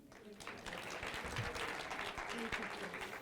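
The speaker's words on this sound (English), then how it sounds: "I've been watching all of you clapping hands without me saying" An audience at a professorial inaugural lecture claps in a sustained, moderately loud round of applause, with a voice talking over it.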